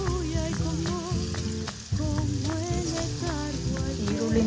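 Chopped onions and egg frying in a pan for an egg fry, a steady loud sizzle with crackling and occasional stirring scrapes throughout, no talk.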